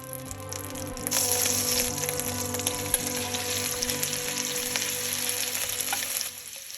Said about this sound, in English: I am gonna melt that down in a heavy pot, and then I'm gonna saute my shrimp within that butter